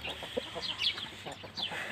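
Roosters and hens cluck softly among a small backyard flock, with scattered short calls over a low steady background.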